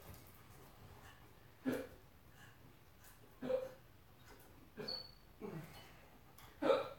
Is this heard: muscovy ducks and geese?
no